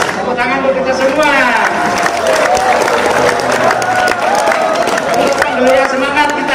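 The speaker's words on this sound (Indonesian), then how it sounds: "Tepuk tangan untuk kita semua" A graduation ceremony audience claps and cheers loudly in a dense, continuous burst of applause, with voices and shouting mixed into the crowd noise.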